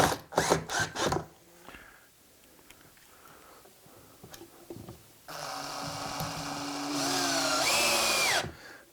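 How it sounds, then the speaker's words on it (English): Power drill drives screws from inside a drawer into its wooden front: a few short loud bursts, then quieter ratcheting clicks, then one long steady whirring run that rises in pitch before it stops. "we're going to come in from the inside of the drawer now and screw that front on right like this"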